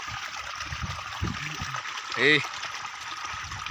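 Irrigation water runs steadily through a farm field with a constant close hiss and trickle while someone talks over it.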